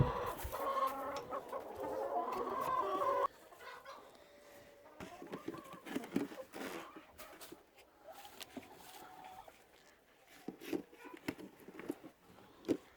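Hens cluck and murmur close by, a louder burst of clucking at first, then scattered softer clucks with faint background noise.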